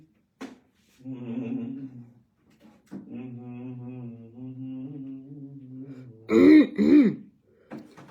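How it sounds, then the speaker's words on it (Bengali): Throat clearing and coughing from one person nearby, a short harsh burst early on and two loud rough coughs near the end, with a voice talking at length in between. "যে এই বেয়াদব কাশিটা"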